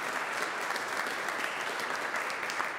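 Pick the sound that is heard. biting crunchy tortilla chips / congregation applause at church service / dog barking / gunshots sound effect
congregation applause at church service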